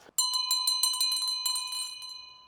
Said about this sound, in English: Captain's bell.